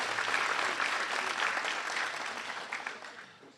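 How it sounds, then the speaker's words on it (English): A luncheon audience applauding presenters at an award event, a dense sustained clapping that holds steady, then thins and fades toward the end. "So let's have another round of applause for our presenters."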